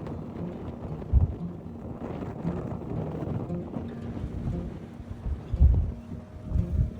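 Wind gusts buffet the microphone on a high mountaintop at a solo tent campsite in Mondulkiri, Cambodia, a continuous low rumble swelling with a few heavier thumps.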